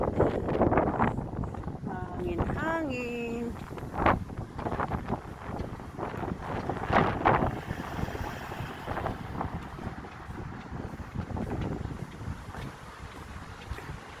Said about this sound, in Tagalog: Mahangin. Hangin, hangin. Super hangin.